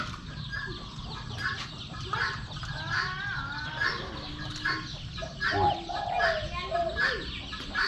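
A caged spotted dove at a dove-keeping pen coos in repeated short phrases, set against a steady chorus of other birds' calls nearby.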